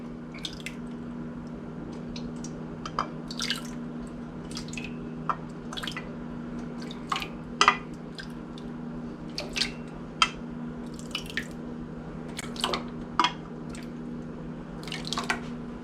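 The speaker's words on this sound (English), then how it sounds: "we're going to go ahead and put in 6 cups of the tomato sauce" Thick tomato sauce poured into a pot, heard as scattered wet plops and squishy drips at irregular intervals over a steady low hum, with no talking.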